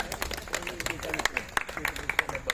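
Group clapping at a gathering of old school friends at a home, with scattered hand claps mixed among ongoing chatter and voices talking over it.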